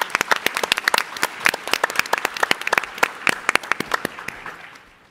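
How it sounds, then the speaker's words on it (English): A round of applause from a startup pitch competition audience: many distinct, sharp claps at an irregular rhythm, loud and close, fading out at the end. "Give a round of applause."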